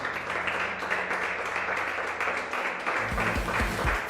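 Church congregation applauding the Lord at the close of a Spanish-language service, a steady wash of clapping over a low sustained organ or keyboard tone, with deeper thumps toward the end.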